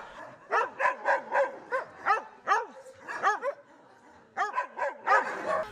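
Many dogs bark and yip in a municipal animal shelter kennel housing over a hundred dogs, a dense, repeated chorus of close barks with short yelps and whimpers, pausing briefly before resuming.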